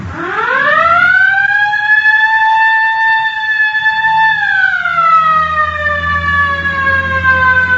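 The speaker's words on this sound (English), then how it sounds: "All right, hit the siren." A loud, close police siren rises into a long steady wail, then slowly drops in pitch as it winds down.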